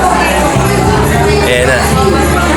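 Dense crowd babble and hubbub outside a school during a Christmas relief goods handout in Taguig City, a steady loud wash of many voices close by with no pauses.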